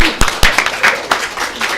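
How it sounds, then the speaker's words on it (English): A small group of people at a League of Women Voters candidate forum clapping for one another, close and uneven with a few sharp individual claps standing out, brief and without talk. "Let's give each other applause."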